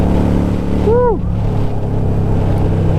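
A Harley-Davidson Sportster cafe racer motorcycle being ridden gives a loud, steady engine drone throughout, and a rider's brief whoop cuts in near the start.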